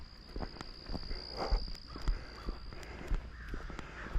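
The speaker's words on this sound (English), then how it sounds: "Freaking crows are going crazy today." Crows caw repeatedly in the distance on an outdoor walk in Lewiston, Maine, their calls scattered over steady insect buzz and crunching footsteps.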